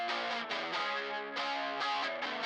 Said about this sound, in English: Like a flanger there with the distortion.